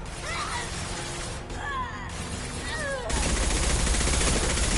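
Rapid automatic gunfire from the video game Mass Effect 2 erupts in a dense, loud, sustained burst during the last part of the clip, after earlier scattered shots and chirpy electronic weapon sounds.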